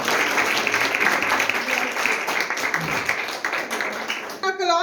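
Worshippers at an evening church service break into loud, sustained applause, a dense crowd clapping that fills the space, with voices audible underneath and a brief tonal sound at the very end.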